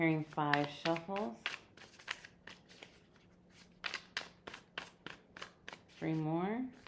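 A quick series of crisp tarot card-shuffling snaps, about a handful of riffles in a row, close up, with a person speaking briefly before and after.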